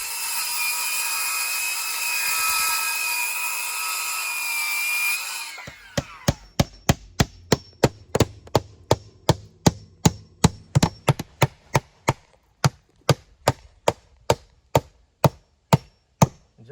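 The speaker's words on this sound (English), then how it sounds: "I actually don't have a table saw. I didn't bring one with me, but you can do this with a circular saw." A circular saw cuts wood siding with a loud, steady, close whine lasting several seconds, then stops. A fast, even series of sharp taps follows and carries on to the end.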